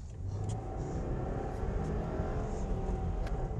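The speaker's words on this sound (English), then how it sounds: "Oh, that turbo spool sounds nice though." A Subaru WRX's turbocharged engine drones under load while driving, heard from inside the car, with a steady mid-pitched hum and faint whistling spool rising over the engine note.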